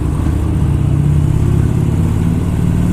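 Motorcycle engine droning loud and steady while the rider splits lanes past cars in city traffic, a constant low rumble with no pauses or voices.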